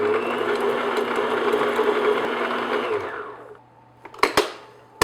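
An electric mixer beats an oil blend spread for low-fat brownies, a steady close motor whir that runs for about three seconds and then winds down, followed by a few sharp clicks and knocks.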